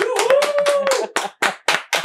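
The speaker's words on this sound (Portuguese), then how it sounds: "uma salva de palmas" Applause from the audience after a talk on inclusion, diversity and governance at a corporate culture event, a brief burst of clapping that fades into a few scattered claps, with a voice heard briefly over the start.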